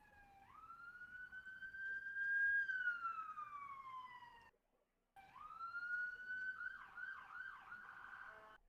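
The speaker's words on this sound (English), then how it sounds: "I hear sirens." Emergency vehicle sirens wail at night, rising and sweeping in long drawn-out cycles at a distance, cutting out briefly midway before resuming with faster warbling tones, with no talking over them.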